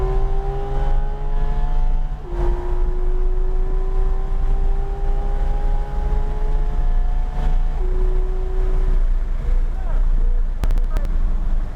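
A Porsche 911 GT3 RS engine pulls hard on a race track at Palm Beach, Florida, its loud droning tone climbing through the gears with brief pitch drops at each shift, backed by steady wind rush.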